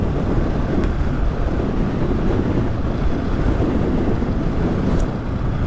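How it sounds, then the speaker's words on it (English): Strong wind roars steadily into the microphone in Arizona backcountry, with low rumbling gusts, continuous and loud, with a faint watery wash beneath. "it's unfortunately really windy"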